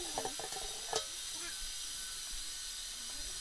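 Onions fry in a pan with a steady, close sizzling hiss, and a few light clicks and taps sound early on.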